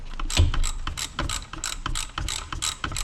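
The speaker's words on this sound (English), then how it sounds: "I'm removing these two bolts here" A ratchet clicks in rapid, steady bursts while removing tight bolts from the engine of a 2011–2019 Ford Fiesta, loud and close, with short pauses between runs of ratcheting.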